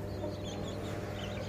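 A mother hen with chicks clucks softly among a backyard flock of aseel chickens, steady low chatter continuing over ambient noise throughout.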